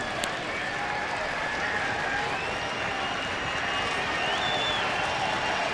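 Baseball crowd at an Oakland ballpark during a Royals game, a broad steady wash of applause and cheering heard from a distance, continuous and even throughout.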